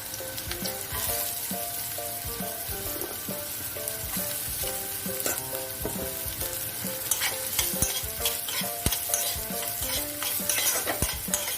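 Chopped onion and green chilli fry and sizzle steadily in a pan, with repeated scraping stir strokes of a spatula close by; no one speaks.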